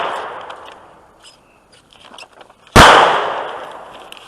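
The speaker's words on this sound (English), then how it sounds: "As they shoot in the background." A single loud AR-15 rifle shot cracks out sharply and rings off, preceded by faint scattered clicks and quiet background noise, with no talking.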